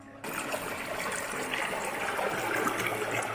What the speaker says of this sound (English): This is a pristine water source, filtered through the earth